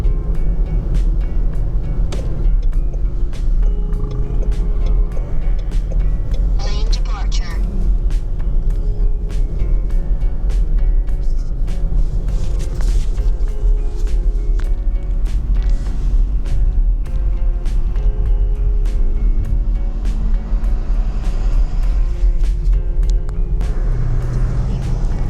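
Mahindra XEV9E electric car cruising on a highway, a steady loud low road and tyre rumble filling the whole span with no talk.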